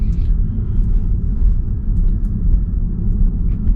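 A Tesla on Full Self-Driving pulls away and drives off, a steady low road rumble with tyre and drivetrain noise filling the cabin, continuous and fairly loud, with no voices.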